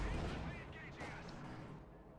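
Mortar and SU-76 self-propelled gun fire in Company of Heroes 2, a heavy distant boom rolling under battle noise, with a voice talking over it.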